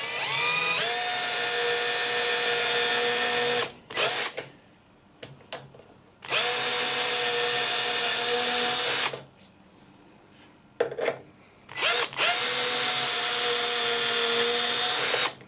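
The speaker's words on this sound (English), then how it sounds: "it's essential that you keep the drill straight" A power drill bores screw holes for a hinge in loud, steady bursts of high whine, three long runs separated by quiet pauses with a few brief trigger blips in between.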